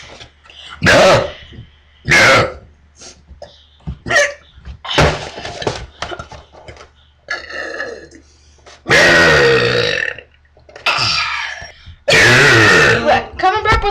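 Loud, long burps repeated one after another at close range, several drawn-out and guttural, with short grunting and throat sounds between them.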